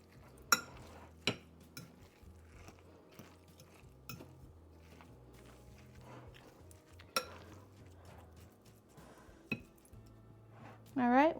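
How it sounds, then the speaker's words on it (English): Spoon scraping and clinking against a pot while stirring food seasoned with red pepper flakes, a scattering of sharp metallic taps and scrapes over quiet background, ending in a louder rattle. "Give it one final stir around, make sure everything looks okay."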